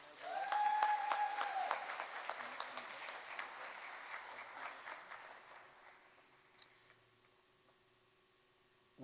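Applause from an audience at an elementary school education awards ceremony, a dense burst of clapping that fades gradually over several seconds and trails off into near silence.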